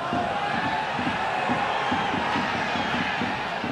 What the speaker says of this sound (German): Da wird natürlich wieder nach Handspiel geschrien